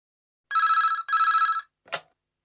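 A telephone gives two long, loud electronic rings, one after the other, followed by a short click as if the handset were picked up.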